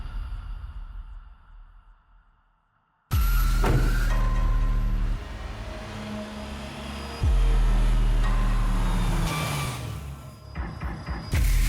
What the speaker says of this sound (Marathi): अरे इथे का थांबवलीस गाडी?